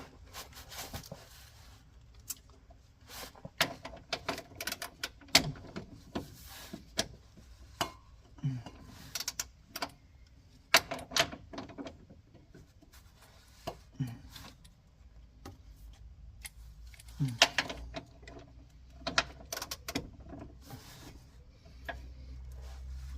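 A ratchet wrench on an 18 mm fitting tightens a suspension bolt on an Opel Corsa C, giving bursts of rapid clicking ticks with pauses between strokes and occasional metallic knocks, close by.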